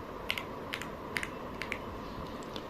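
Keys tapped on a computer keyboard while setting up Windows drive encryption on a ROG Ally handheld: about six quick clusters of light clicks, some paired, spaced irregularly over a steady low hum, close and fairly quiet.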